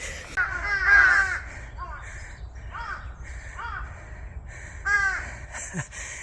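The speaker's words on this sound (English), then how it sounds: "Noisy crows." Crows caw repeatedly along a mountain ridgeline trail in South Korea, a run of harsh, rasping calls in uneven bursts, some louder and closer, others fainter, with a soft background hush.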